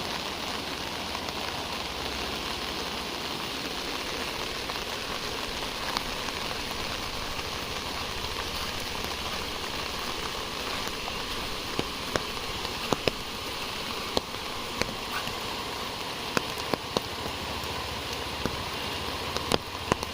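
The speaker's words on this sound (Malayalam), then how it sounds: "മഴയും" Rain falls in the Mamalakandam forest as a soft, even hiss, with scattered sharper drips ticking through it, more of them toward the end. It stays fairly quiet and no one speaks.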